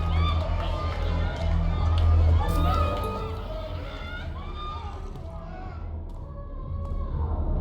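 A crowd in the mosh pit of a rock concert in the video game Life Is Strange: Double Exposure, a dense rumbling murmur of bodies with faint cheers and thumps and a heavy low drone underneath, while voices talk over it.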